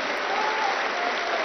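Dense, steady applause from a large crowd at a political rally in Jaipur, a continuous wash of clapping that holds at full strength throughout without pause.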